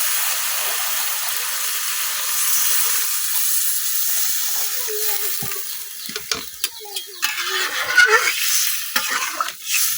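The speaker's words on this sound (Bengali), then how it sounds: "এখন আমি অল্প করে জল দিয়ে নিলাম" Water poured into a pan of sautéed mixed vegetables for a rohu fish curry, setting off a loud steamy sizzle and hiss that settles, then crackles and spits again with stirring clatter toward the end.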